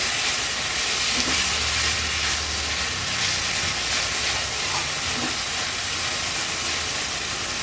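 Moth beans (matki) dry-sautéed with salt and no water in a pan, giving a steady, even hiss and sizzle throughout with faint low rumbles underneath.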